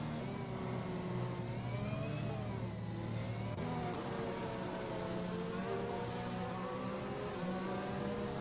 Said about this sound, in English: Samuel Drake Lee now will lead the safety car.